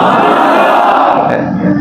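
A large religious gathering chanting Subhan Allah together at a Jumma Tul Wida sermon, a loud dense roar of many voices held steadily and then tapering off at the end.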